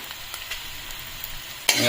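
Cumin, salt and turmeric fry in a pan for a traditional pork curry with mustard leaves, with soft stirring scrapes over a low sizzle before a sudden loud burst of sizzling near the end.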